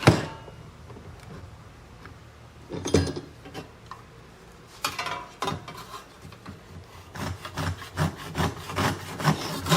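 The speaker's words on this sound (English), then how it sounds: "I'm just going to do that with a handsaw" Handsaw cutting through a sheet of starboard plastic, with irregular rasping strokes that start sparse and become a denser, rhythmic back-and-forth sawing, close and fairly loud.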